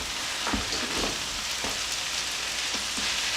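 Pad See Woo noodles stir-frying in a hot pan with garlic, a constant close sizzle broken by several soft scraping stirs and tosses.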